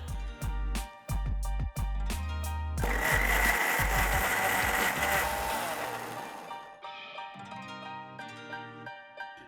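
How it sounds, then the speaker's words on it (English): A mixer jar blending chutney with a little water into a fine paste, its motor whirring loudly in a steady grinding burst over background music, then winding down as the music carries on. "With this, I'm going to add little water and blend it into a fine paste."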